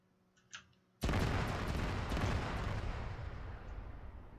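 Arma 3 explosion on Tanoa: a sudden loud boom strikes after a faint pop, then a long rumbling roar decays slowly, heard up close and alone.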